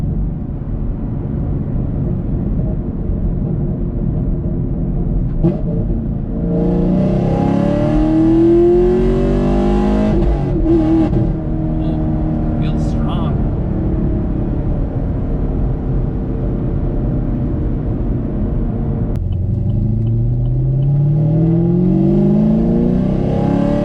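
A tuned 2018 Chevrolet Camaro Gen V makes a short pull, the engine revving up loud and close in two rising sweeps with a gear shift between, its throaty exhaust note filling the cabin without talk.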